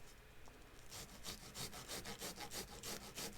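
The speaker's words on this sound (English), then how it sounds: "So once I start grating" Garlic grated on a rasp-style grater in a kitchen, a steady run of about ten quick scraping strokes that grow louder after a quiet start, fairly close and with no voices.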